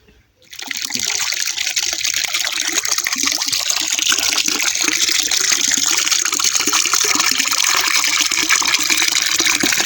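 Irrigation water pours into a raya (mustard) crop field at night, a loud, steady, close rushing gush that starts abruptly and keeps flowing without a break, with no voices.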